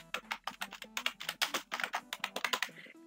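Fingers type rapidly on a computer keyboard, close and clear, in an uneven run of crisp key clicks and thocks with no talking.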